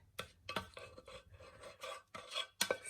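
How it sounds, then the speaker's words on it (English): Thick grits mixture poured and scraped from a container into a 13x9 baking dish, giving soft wet plops and raspy scraping strokes in an irregular rhythm, close up and fairly quiet with no talking. "I am going to pour our grits mixture in here"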